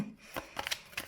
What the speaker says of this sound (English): So let's shuffle the tarot first